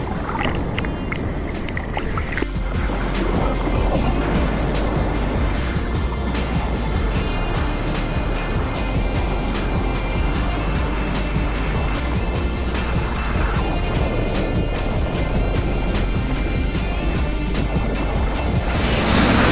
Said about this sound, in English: The waves were absolutely pumping.